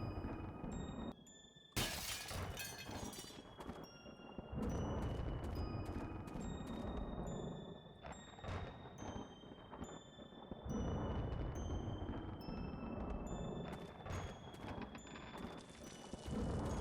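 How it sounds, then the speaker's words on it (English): Thunder cracks and rolling rumbles fill the indie horror slasher game The Happyhills Homicide, with a sharp, loud crash early on and repeated booming surges over faint tonal game music. "So with this, lightning and thunder, we've got to time things out."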